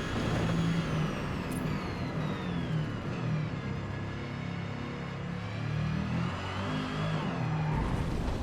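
A race car engine holds a steady drone under throttle in Forza Motorsport, its pitch wavering slightly as it pulls through a corner, continuous and fairly close throughout.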